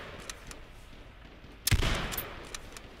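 A single sharp sniper rifle shot in a video game cracks out loud and close, with a long rumbling tail fading behind it, set against a quiet background with faint ticking sounds.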